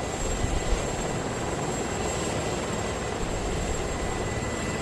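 A constant, loud rotor-and-engine drone of a helicopter in the video game Arma 3, steady throughout with a thin high whine on top and no speech.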